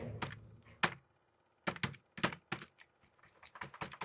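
Computer keyboard typing in bursts of quick, close key clicks with short pauses between runs, no voices present.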